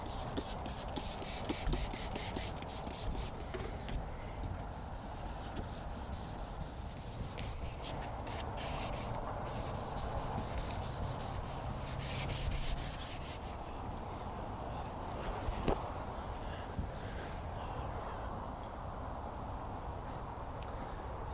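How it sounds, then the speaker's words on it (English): A car bumper is wet sanded by hand with 600 grit sandpaper in a body shop, producing close, steady rasping strokes in repeated rhythmic bursts, soft overall, with occasional low voice in the background. "we'll take some 600 grit sandpaper and we'll wet sand this thing to prep it for our base coat"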